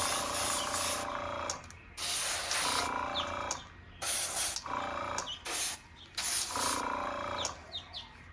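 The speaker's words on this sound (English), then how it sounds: "Some nice even coats where I'm holding the airbrush a little farther away." An airbrush sprays clear coat over a model car body in repeated bursts of about a second each, loud, close-up hissing separated by short pauses, with no talking.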